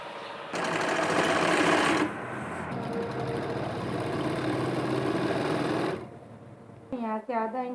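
An electric sewing machine stitching a little girl's Patiala kurti suit runs in a loud, continuous whirring burst, dips briefly, then keeps stitching for several seconds before stopping, after which someone speaks.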